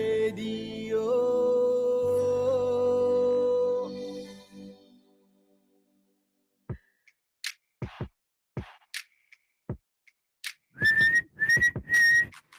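A person whistles, imitating a referee's whistle: a long sustained tone over a held background note, then a few short clicks, and finally several short shrill whistle blasts, close and loud.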